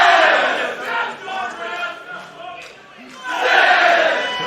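Wrestling fans in a Belfast arena chant a count together in loud rhythmic swells that rise, dip for a moment, and surge again.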